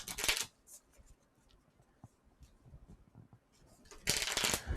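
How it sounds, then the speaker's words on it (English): A deck of game cards for the board game Kingdom Death Monster being shuffled at a table, two brisk riffling bursts at the start and end with quieter handling clicks between, close and fairly loud. "shuffle that up and get us a random one"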